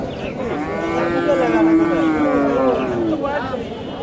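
A pregnant local Bangladeshi cow moos in one long, loud, drawn-out call with a wavering pitch, close by, against a busy cattle-market murmur.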